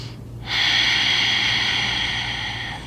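Slow, deep breathing during a seated chair yoga session, one long close airy inhalation rising suddenly and holding steady as a soft hiss, no talking.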